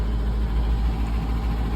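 A pickup truck with its thermostat removed idles high, a steady low, loud engine drone with slight rhythmic pulsing and no speech.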